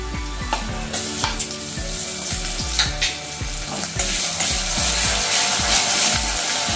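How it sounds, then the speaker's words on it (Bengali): Onions sizzling in a pan with repeated scraping and stirring strokes, close up, the frying hiss growing louder toward the end. "এই যে পেঁয়াজটা একটু ভাজা হয়ে গেছে।"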